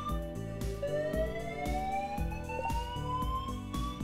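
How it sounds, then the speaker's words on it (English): A building fire alarm going off during a home gaming session, a loud, continuous electronic wail with rising sweeping tones and a repeating pulse, sounding alone. "That's the fire alarm."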